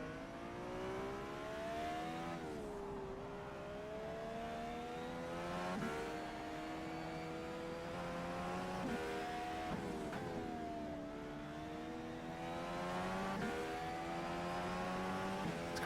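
An Indycar engine in rFactor 2 racing around Mid-Ohio, a steady high whining drone that rises and falls through repeated gear shifts as the car accelerates and brakes for corners, continuous and up close.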